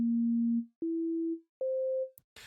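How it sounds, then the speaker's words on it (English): A plain sine wave from an analog oscillator in the UVI Falcon 2 synthesizer, played as three steady sustained tones, each a step higher than the one before, with short gaps between them and a brief burst of noise at the end. "if I play this right now, all we have is a sine wave that sustains indefinitely"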